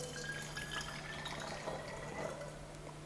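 Water being poured into a container while preparing a salt solution in a school chemistry practical, a faint, steady trickling stream that runs continuously, quiet against a low hum.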